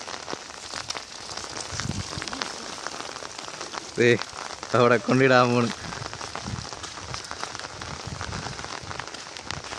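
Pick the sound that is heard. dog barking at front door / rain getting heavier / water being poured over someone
rain getting heavier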